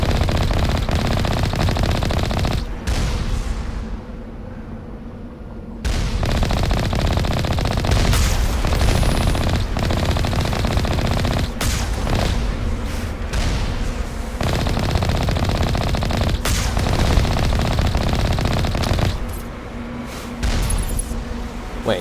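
Gunfire in a space adventure video game, with dense, loud bursts of rapid automatic shots and heavy impacts running almost continuously, broken by a few brief lulls.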